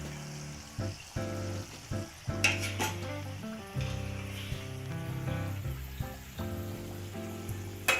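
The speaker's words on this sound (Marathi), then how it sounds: "आता आपल्या करंज्या मस्त बदामी रंगाच्या तळण्यात तळल्या आहेत" Karanji pastries deep-frying in hot oil, a steady close sizzle and bubbling with occasional clinks and stirring scrapes of a utensil against the pan, no voices.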